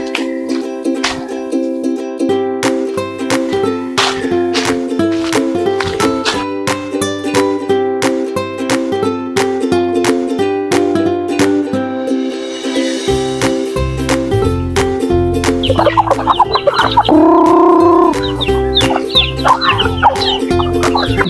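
Native chickens clucking while being fed, dense overlapping clucks and calls close by, loud and continuous throughout, with a rooster-like call standing out near the end.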